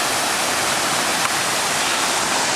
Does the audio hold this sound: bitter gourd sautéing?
no